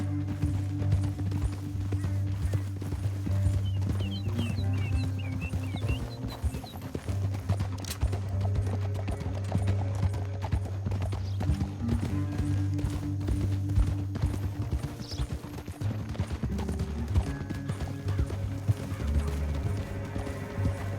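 Horses trotting in Red Dead Redemption 2, a steady clip-clop of hooves running throughout over a low droning game score, with an occasional whinny and no talking.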